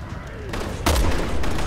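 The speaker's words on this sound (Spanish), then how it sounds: "Eso es. Explosión." Explosion and gunfire in the Resident Evil 6 video game, Leon campaign: a loud blast strikes about halfway through a busy stretch of firing. It is near and heavy, and its rumble lingers under continuing shots.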